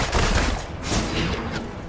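Pistol fire in Marvel's Avengers crackles in a dense, continuous flurry of close, loud shots with no talk over them.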